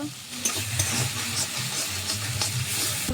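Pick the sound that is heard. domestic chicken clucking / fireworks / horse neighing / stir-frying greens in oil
stir-frying greens in oil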